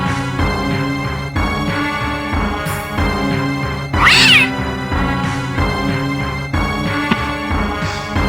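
A kitten meows in the Sega Saturn game Dark Hunter: Ge Youma no Mori by Koei. A single plaintive mew rises midway over steady, loud synthesized game music.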